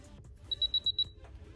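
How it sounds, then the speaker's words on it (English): A TESCOM Sailor Moon Crystal hair iron signals it has reached temperature with five quick, evenly spaced high electronic beeps, clear over a quiet background. "it will beep at you when it's at temp"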